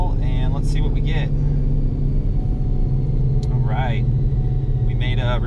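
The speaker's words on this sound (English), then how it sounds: "All the way to 8000 RPMs. Save our dyno pull and let's see what we get." Loud, steady high-revving engine drone from a 2020 Ford Mustang GT500 held near 8000 RPM on a dyno, a dense continuous roar with a faint whine over it; someone talks in short bursts over the noise.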